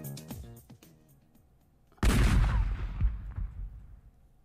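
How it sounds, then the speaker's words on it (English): Cannon firing in Devil Summoner: Raidou Kuzunoha, one loud heavy boom that rolls off into a long decaying rumble after a short stretch of tonal game music. "We are about to ignite this cannon."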